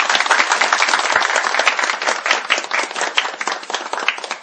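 Dense, steady applause from a crowd at a mock parliament session, many hands clapping continuously and loudly for several seconds with no speech over it.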